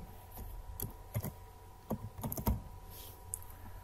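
Light typing on a computer keyboard as a name is entered in Microsoft Word 2016, a few scattered bursts of soft key clicks, close and fairly quiet with no talk.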